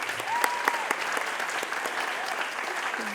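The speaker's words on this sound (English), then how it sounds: "one more round of applause for all of you" Sustained audience applause fills the room at a school district awards ceremony, steady clapping from a large crowd with scattered whoops, a few brief tonal cheers, running loud and dense throughout.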